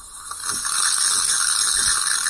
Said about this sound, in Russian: После этого идет подача пара.